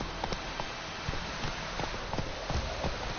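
Hooves of Roach, a horse in The Witcher 3 game, clip-clop at a running pace in an irregular stream of thuds over steady background game ambience.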